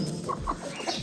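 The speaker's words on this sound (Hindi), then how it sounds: "ये सारे देसी मुर्गे हैं" Several desi chickens cluck in short, overlapping bursts close by on a poultry farm, with a busy farmyard murmur underneath.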